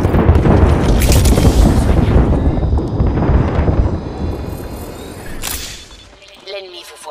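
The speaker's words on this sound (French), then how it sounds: "Grenade frag lancée." Frag grenade blast in Apex Legends, a heavy, loud rumbling explosion that rolls on for several seconds and gradually fades, with a sharp crack partway through and game voices talking.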